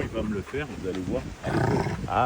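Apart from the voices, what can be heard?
Rottweiler dog growling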